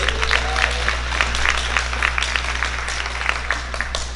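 An audience at an annual memorial missions dinner event applauds, a dense wash of clapping with a few cheers over a steady low hum, continuous across the clip.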